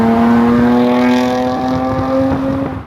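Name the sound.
Jaguar F-Type supercharged V6 engine revving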